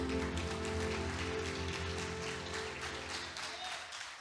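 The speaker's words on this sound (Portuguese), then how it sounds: "Vamos aplaudir ao Senhor Jesus." A church congregation claps during a Sunday service, faint and distant-sounding applause over a low sustained musical tone, steady for several seconds before tapering off.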